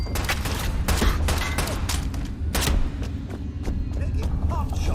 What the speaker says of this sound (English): Taking pot shots at us